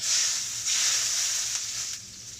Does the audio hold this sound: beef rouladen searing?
yes